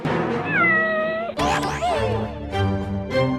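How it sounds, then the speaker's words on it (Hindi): A cat meows several times inside a warehouse, drawn-out and insistent, loud and close, with no talking. "बिल्ली की आवाज कहाँ से आ रही है?"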